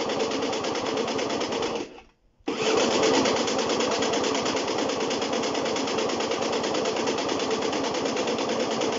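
An old engine cranks and sputters in a steady rapid chug as fuel is drawn into the carburetor, cuts out briefly, then resumes its rough, rattling rhythm close by.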